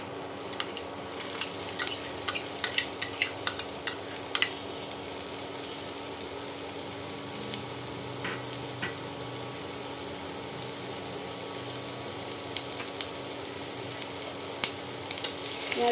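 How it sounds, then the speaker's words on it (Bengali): Chopped onions fry in a hot pan for prawn and pointed gourd, giving a steady close sizzle with occasional sharp scrapes and clicks of stirring throughout. "পেঁয়াজের কুচিগুলো এবার দিয়ে দিলাম।"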